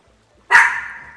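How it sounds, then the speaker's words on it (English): Kiwi the dog lets out one sharp, loud bark close by, with a short ringing tail after it and near silence before. "What are you barking at?"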